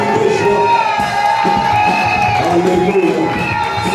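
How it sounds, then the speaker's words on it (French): Wedding crowd cheering and shouting with joy in a loud, continuous wash of voices, whoops rising over a dense crowd roar with no quiet gaps. "Est-ce qu'on peut applaudir fort, fort, fort, fort. Les cris de joie."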